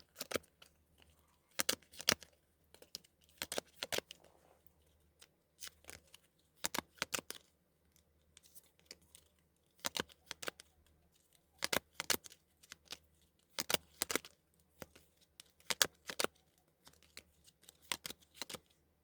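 K-pop photocards being handled and flipped through, a series of crisp, brief card flicks and riffles in irregular bursts, fairly quiet and close with no talk.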